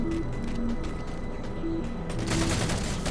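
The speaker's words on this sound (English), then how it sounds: "That's a battle rifle." Rapid battle rifle fire in the shooter game Halo: The Master Chief Collection, dense bursts of sharp shots with mechanical clatter, building louder toward the end.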